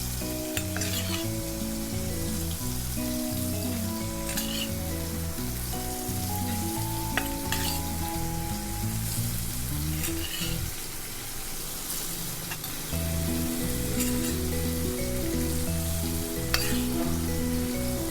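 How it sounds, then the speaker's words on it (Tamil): Marinated paneer pieces shallow-fry in hot oil in a pan, a loud, continuous sizzle that crackles steadily throughout, with occasional clicks and scrapes of stirring over a constant low hum. "பன்னீரை 1 by 1 நம்ம ஆட் பண்ணி ஷாலோ ஃப்ரை பண்ணி எடுத்துடலாம்."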